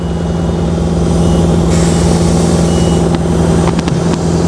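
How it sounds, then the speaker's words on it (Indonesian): Heavy engine noise from a truck at a road construction site with heavy equipment, a steady loud rumble running throughout with a few brief higher-pitched clicks or beeps near the end. "Kalau itu mah truk."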